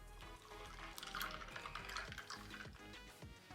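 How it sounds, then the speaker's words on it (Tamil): Cold milk poured into strawberry syrup for a strawberry shake, a faint, soft liquid trickle with small splashes and clinks, fairly quiet throughout. "அதுக்கப்புறம் பால், குளிரான பால் சேர்த்துக்கொள்றேன்."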